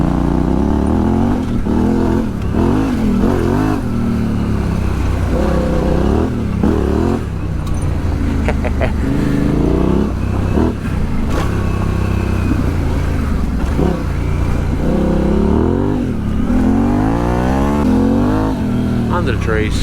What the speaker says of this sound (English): Alright, let's crawl it up in second, see how that performs.